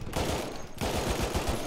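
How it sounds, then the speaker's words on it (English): A Lewis gun fires in Battlefield 1, two bursts of rapid automatic shots at close range separated by a brief pause, loud and dense, with no voices. "the recoil on this Lewis gun, it's like non-existent"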